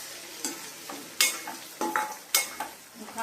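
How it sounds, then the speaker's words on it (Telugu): Andhra-style bitter gourd slices deep frying in oil with a constant sizzle, punctuated by about five sharp scraping stirs of a spoon against the pan, close and clear. "ఇలాగా కొంచెం డీప్ ఫ్రై లాగా వేయించుకోవాలి."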